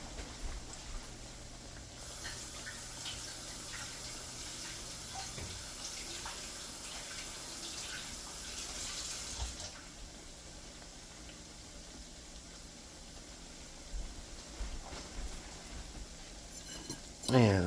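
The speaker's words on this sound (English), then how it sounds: "I'm going to rinse my hands off" Tap water runs steadily as hands are rinsed under it in a home kitchen while cooking salmon patties, a continuous splashing hiss that shifts in tone midway, with faint clatter of dishes near the end.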